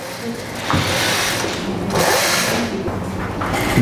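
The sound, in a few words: sewing machine stitching a wig cap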